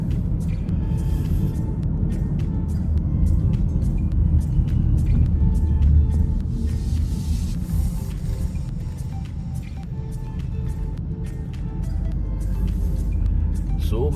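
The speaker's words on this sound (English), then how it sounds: "So many cars over here." Cars in a car park, a continuous low engine rumble with passing traffic and occasional clunks, loud and close throughout, with people talking faintly underneath.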